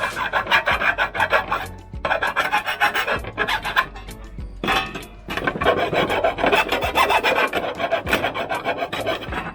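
Steel file rasping back and forth along the cut edges of a metal box gutter, loud close strokes in steady bursts with brief pauses between runs.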